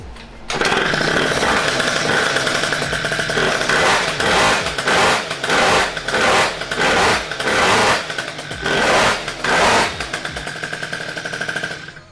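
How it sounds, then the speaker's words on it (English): A small high-pitched RC car engine revs in repeated bursts, sputtering and bogging down between pulses as the clutch grabs too early, loud and close with a buzzy, chainsaw-like tone. "the engine can't get into its power band because the clutch is grabbing so early and it's just bogging"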